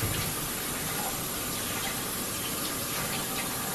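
Kitchen tap water runs steadily while fresh celery is rinsed of sand, a constant close rushing gush filling the whole stretch without pauses or talk.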